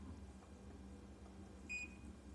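A LiftMaster MyQ garage door opener gives a single short electronic beep partway through, clear over a low steady hum in a quiet room.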